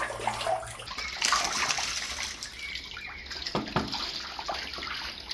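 Water gushes and trickles out steadily through an opened valve draining a fish tank, a continuous splashing flow close by with no one speaking.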